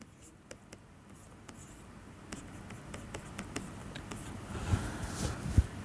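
Writing on a board during a mathematics lecture brings a series of sharp taps and soft scratching strokes, faint and close against a quiet room, growing a little busier toward the end.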